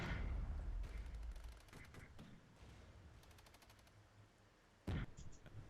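Tanks fire on a position in the video game Regiments: a heavy opening boom, then scattered distant gunfire and a sharp late blast, all fairly faint, with brief talk.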